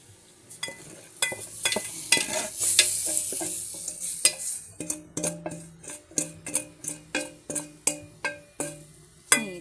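Corned beef heated in a pan and stirred, with a spoon scraping the pan in a steady run of sharp, regular strokes over a low sizzle, close and fairly loud, no voices.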